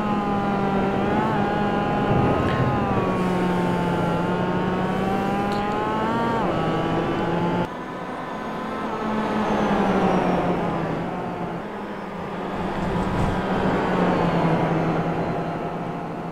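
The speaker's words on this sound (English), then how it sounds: "Jesper EGEBAK, Per Knudsen and Max SGUAZZINO rounds off the racing field here at the first heat of round 10." Racing cars in a heat at Oulton Park circuit, engines droning loudly and steadily with rising and falling pitch as they rev and pass, several cars overlapping throughout.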